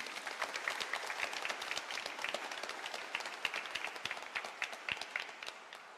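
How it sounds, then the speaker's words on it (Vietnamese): A church congregation at a thanksgiving Mass for a new parish priest claps in a steady, dense patter of many hands, moderately distant and even in volume, with no talk over it. "chúng ta cùng với toàn thể quý cha và quý khách xin có tràng pháo tay để chúc"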